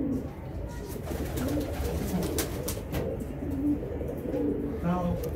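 Dab breed pigeons coo in soft, repeated low calls close by, with steady background noise and someone speaking over them at times.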